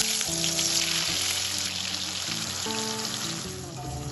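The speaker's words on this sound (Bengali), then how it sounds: "এবার আমি যে মশলার পেস্ট বানিয়েছিলাম সেই মশলাটা দিয়ে দিলাম।" Spice paste hitting hot oil with cumin and dried chillies for a fish roe curry, a loud, steady broadband sizzle that fills the whole clip, with a musical tone playing underneath.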